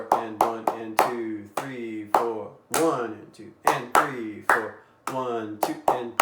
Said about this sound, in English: let's clap and count